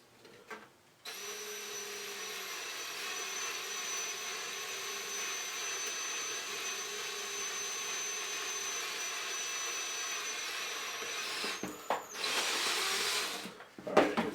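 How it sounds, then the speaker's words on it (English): A power drill bores holes in a Riddell football helmet, whining steadily and loudly up close for about ten seconds before stopping, then restarting briefly. "And you just drill."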